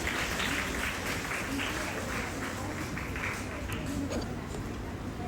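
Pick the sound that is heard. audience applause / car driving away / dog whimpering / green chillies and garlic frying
audience applause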